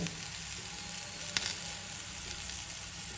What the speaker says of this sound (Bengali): একটু ভাজা ভাজা হয়ে এসছে তিন চারটে কাঁচা লঙ্কা দিয়েছি চিড়ে মাঝখানে